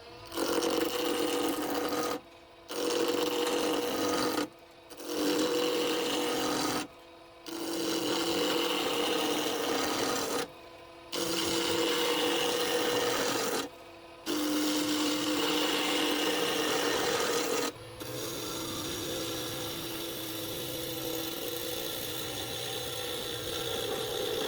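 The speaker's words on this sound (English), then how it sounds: "I mount the laminated blank on the lathe and start turning it into a clean," Wood lathe spinning a laminated salt shaker blank while a tool cuts it, a steady rough scraping hum broken by about six short pauses, then a smoother, quieter run at the end.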